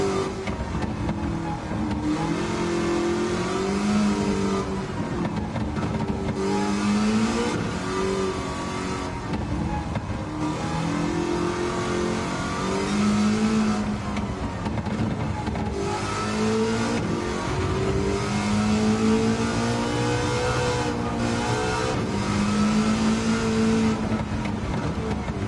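An engine-swapped Amuse 380RS in Gran Turismo 7 accelerates hard, its engine note rising and falling through repeated gear changes in a steady, loud drone throughout.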